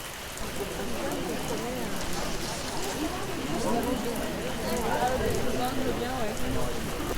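Heavy rain falls steadily in an animated folk tale, a continuous close patter that carries on under talking voices.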